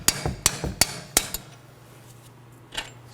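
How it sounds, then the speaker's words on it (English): A hammer strikes a metal center punch to drive out a front strut bolt on a 2018-2024 Chevrolet Equinox, giving four sharp, ringing metallic hits in steady rhythm at close range, then quiet shop noise and one softer knock. "You'll have to hit them with a punch and a hammer."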